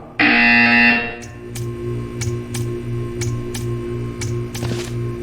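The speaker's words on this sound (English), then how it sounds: "When you hear the buzzer, stare at the art." A loud, harsh electronic buzzer blares for about a second in the Portal 2 video game, followed by a rhythmic series of sharp mechanical ticks over a low hum.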